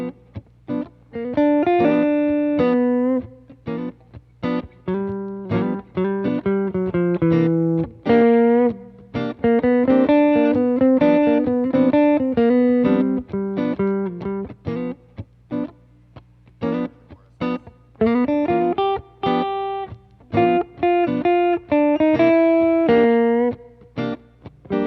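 A distorted electric guitar plays a busy melodic line of quick, separated notes and slides, loud and close, with no voices.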